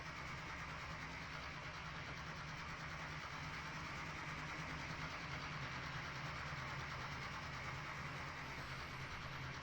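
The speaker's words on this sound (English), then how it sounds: "Another train of autoracks." An autorack freight train in Trainz Simulator 3 rolls steadily past with a continuous low rumble and rail noise. It holds an even level throughout and sounds alone, with no voices.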